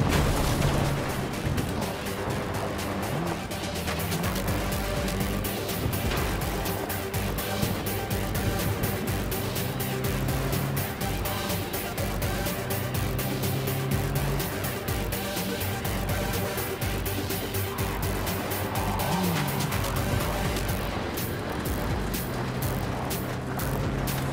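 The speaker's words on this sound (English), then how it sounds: "So as soon as you find Saul, I'll fire up the engine and we'll speed at him" A video-game boat engine drones steadily as the boat speeds across water, a continuous rumbling hum with splashing wash, fairly even and moderately loud throughout.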